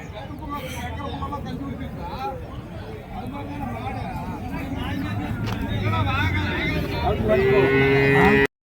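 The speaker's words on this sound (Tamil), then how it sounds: "ஒரு நாட்டு காளை பாருங்க." Native bulls and cattle at a busy livestock market in Matrapalli, Tirupattur district, moo amid a constant crowd babble, with a louder, drawn-out moo rising near the end while people talk throughout.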